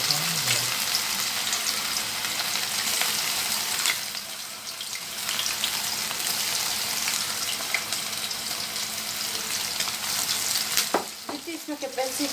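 Chicken pakoras deep frying in medium-hot oil in a pan, a steady dense sizzle and crackle that holds throughout, with a brief louder bubbling burst near the end.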